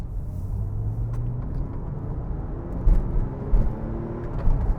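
Porsche 996 911 flat-six engine, a low steady rumble with a few brief louder swells, heard from inside or close to the car.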